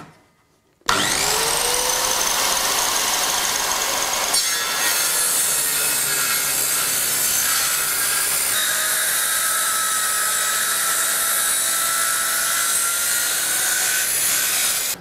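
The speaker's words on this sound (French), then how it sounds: "les découpes droites, bien évidemment, je les fais à la scie circulaire" A loud, continuous circular saw roar making straight cuts through wood for a chair for over ten seconds, harsh and close, starting abruptly after a brief quiet moment.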